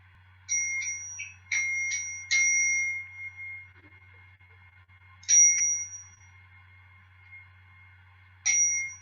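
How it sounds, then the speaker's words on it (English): A hand bell rung while carried around a room during a goddess temple service, several clear rings in separated clusters, each tone resonating and fading into quiet. "going around the room with her bell, letting the sound resonate"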